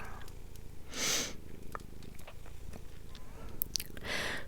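A domestic cat purrs as a soft, continuous low rumble close to the microphone, with intermittent crackly rustles and brief hissy noises over it.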